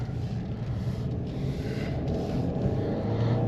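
A Mercedes-Benz GLC 300 with a 2.0 L turbo four-cylinder and rear-wheel drive accelerates, with about 80k miles on it. A low engine drone and road rumble sit steadily under a faint cabin hiss.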